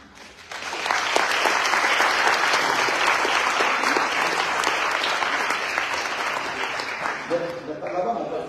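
An audience at a political speech in Cagliari breaks into loud, sustained applause, a dense wash of clapping that starts sharply and holds steady for several seconds before fading slightly near the end.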